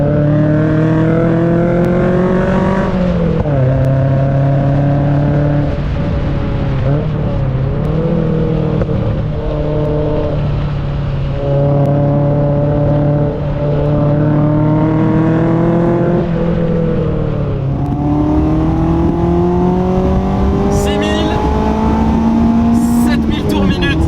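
A 1993 Toyota MR2 engine droning loud and close from inside the moving car, pitch rising through the gears and dipping at shifts, with someone talking over it.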